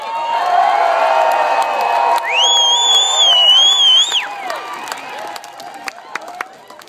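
Crowd cheering and whooping at an outdoor music festival show, a loud sustained roar of voices with a high shout riding on top, then fading into scattered claps and calls.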